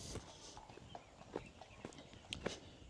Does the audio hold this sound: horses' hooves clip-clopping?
yes